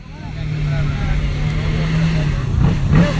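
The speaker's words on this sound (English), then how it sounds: "You're hearing the sounds of our final competitor here at the Rolling Exhaust Contest at Corvettes at Carlisle 2020" Corvette exhaust during a rolling exhaust contest at a Carlisle car show, a deep steady rumble building in loudness as the car rolls past, with a voice talking over it.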